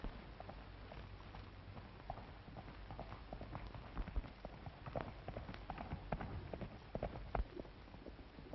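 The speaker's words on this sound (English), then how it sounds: "Here comes his horse." Horse hooves clip-clop at a walking pace on a Western film set, irregular, mid-distance, beneath a continuous wash of outdoor background noise.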